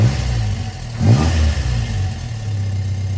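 Classic Mark 1 Ford Cortina engine on a drive along a patchy road, a steady low in-cabin drone with a brief rising rev swell near the start, then settling back to an even hum.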